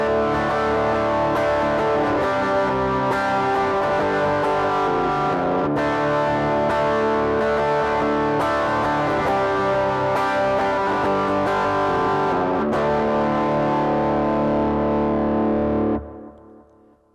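A distorted electric guitar with chorus effect plays the interlude of a song as steady rhythmic strummed chords, loud and close, lasting about sixteen seconds before the sound cuts off abruptly.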